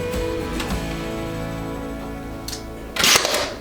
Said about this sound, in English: Is that your pin nailer?